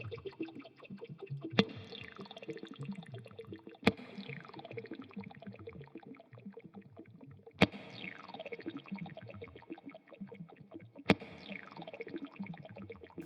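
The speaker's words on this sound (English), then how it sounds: "Now I have the one with the pan effect." Electric guitar played through a Boss DD-500 digital delay pedal with pan effect, sharp plucked notes every few seconds each trailing into cascading, fading echo repeats, alone without talk.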